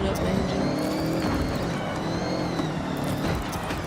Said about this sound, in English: I'm gonna be revving up my engine.